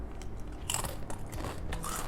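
Close, crisp crunching and biting of egg yolk flavoured crinkle cut potato chips from Malaysia, with several sharp crackly bites in a row and no talking.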